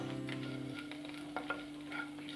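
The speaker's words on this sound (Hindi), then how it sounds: "इसको तब तक हम भूनेंगे जब तक कि दाल का कलर लाल ना हो जाए।" Urad and chana dal roast in hot oil with a steady, close sizzle, broken by a few scraping stirs of a spoon in the pan, with a faint hum underneath.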